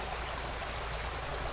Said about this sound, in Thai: ดูน้ำค่ะไหลไปเรื่อย ๆเนี่ยค่ะวิธีการเขาเอาหินมาขวางน้ำเพื่อให้มันกระเด็นผ่านนะ